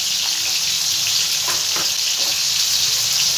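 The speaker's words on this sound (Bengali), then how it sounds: "আলুটাকে এবার খুব ভালো করে আমি একটু লাল লাল করে ভেজে নেব" Potatoes with salt and turmeric fry in a pan, producing a loud, constant hissing sizzle with a few brief stirring scrapes, close up and with no one talking.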